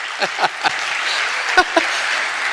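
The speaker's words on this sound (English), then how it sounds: "Come on, give yourselves a round of applause." An audience at an auto industry futurist keynote breaks into a short burst of applause, with a few sharp claps standing out from the steady clatter.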